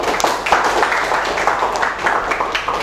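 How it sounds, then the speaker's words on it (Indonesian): A crowd claps steadily for a few seconds, a dense patter of many hands without pause. "beri tepuk tangan sekali lagi"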